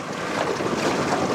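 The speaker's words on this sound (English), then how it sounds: "it's so windy out here" Strong wind gusts buffet the microphone outdoors at a rustic deer hunting camp, a steady loud rushing roar with no voices.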